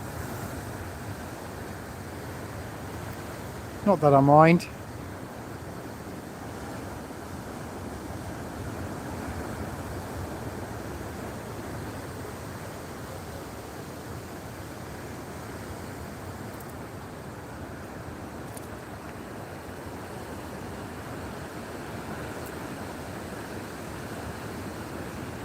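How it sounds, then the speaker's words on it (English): A rough, churning sea rolls in at Bouznika beach, a constant broad roar of surf with wind buffeting the microphone, broken only by a brief spoken remark early on. "it's quite an angry sea today"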